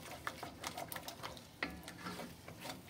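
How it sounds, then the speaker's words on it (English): Celery in a creamy butter and cream mixture being stirred in a pot, quiet irregular scrapes and soft taps of the spoon against the pot, close but faint, with no voices. "So now you want to stir that really nice."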